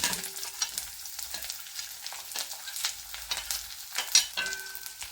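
Ginger, garlic and green chillies fry in a hot pan, giving a steady crackling sizzle with soft stirring scrapes and small bright pops throughout, close and moderately loud.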